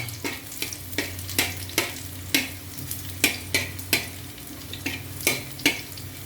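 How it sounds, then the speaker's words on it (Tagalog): Garlic sautéing in a pan for a simple leafy ampalaya dish, a soft frying hiss punctuated by a regular series of sharp stirring scrapes and clinks of a utensil against the pan, close and moderately loud. "Gigisa ko lang naman po yan. Ayan, lagyan natin ng bawang."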